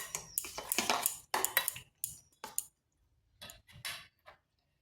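Egg being stirred into grated pointed gourd in a bowl, a series of close clinks and scraping clatters of a utensil against the bowl, in irregular bursts with short pauses.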